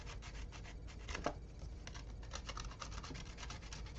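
A file rasping a burr off the edge of a custom three-string guitar, a quiet continuous scraping made of short rapid strokes with no pauses.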